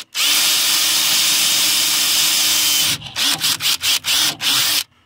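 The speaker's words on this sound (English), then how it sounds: "I'm gonna make my drill hole here" A power drill whirs continuously at high speed for several seconds while drilling a hole in a running rail, then stops and restarts in a series of short, stuttering bursts before falling silent.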